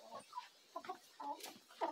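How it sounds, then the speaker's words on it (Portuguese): A hen clucks in short, close bursts around a garden greenhouse, several soft calls spaced irregularly over a quiet background. "Opa, pisei no pé da galinha."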